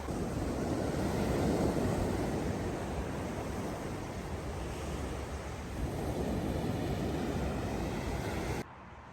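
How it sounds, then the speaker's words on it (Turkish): Sea waves rolling onto the shore at Alanya around dawn in winter, a steady broad roar with gusty wind buffeting the microphone, continuous and fairly close, cutting off abruptly near the end. "Şöyle dalgalara yakalanmayalım geçen seferki gibi."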